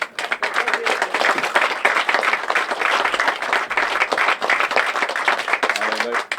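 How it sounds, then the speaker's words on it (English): A crowd at the Newcastle West Golf Club prize presentation gives loud, sustained applause, with thick overlapping claps that stay strong throughout. A voice briefly emerges near the end. "we have to give him a huge round of applause"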